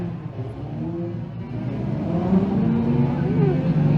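Thunder Car division race cars at Can-Am Speedway during the Ron White Memorial feature, engines droning and rising in pitch as they build speed, moderately loud, with an announcer talking over them.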